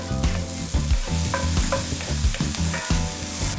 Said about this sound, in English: we're gonna go in with our onions. And we're gonna saute these for about 5 minutes.